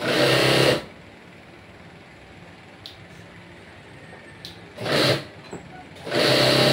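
A servo-motor sewing machine stitches a blouse uniform, running in short loud bursts at the start, midway and at the end, with near-silent pauses between runs.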